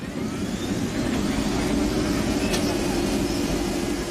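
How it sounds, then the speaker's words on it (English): An experimental gas turbine car, once produced in roughly 55 units and able to run on fuels from white oil to kerosene, giving off a steady loud jet-like whine and rush much like an airplane. "The engine produced a sound similar to an airplane."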